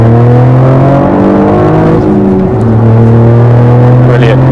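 A car being driven hard around a race track, its engine roaring loud and close with a steady rising note and a brief gear change midway.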